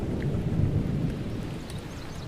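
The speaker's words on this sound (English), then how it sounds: "sometimes filled with a thunderstorm, with zigzag lightning flashing" A thunderstorm sound effect, with a low rolling rumble of thunder over the steady hiss of rain, moderately faint and continuous for a couple of seconds.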